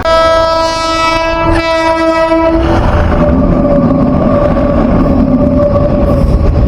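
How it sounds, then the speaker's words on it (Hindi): A train sounds its horn in long sustained harmonic blasts for about two and a half seconds, then the loud rumble and clatter of cars rolling past a level crossing fills the rest, close and steady with no talk. "दूसरी ट्रेन आ गई, 2 ट्रेन में क्रॉस करना है"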